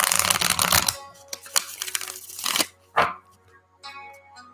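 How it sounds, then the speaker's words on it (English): Tarot card deck shuffled up close: a dense riffle burst, then several shorter crisp flicks and one sharp snap, separated by quiet gaps. "They sound good too when you shuffle them."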